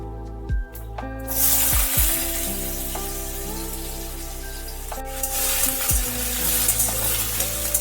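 Diced potatoes frying in a pan for chana masala with chicken keema hiss and sizzle steadily, with several sharp clanks of a spoon against the pan as they are tossed.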